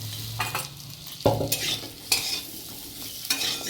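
Potato and aubergine fry in a pan with a soft sizzle broken by several sharp stirring scrapes and clanks of a utensil, close and without talk.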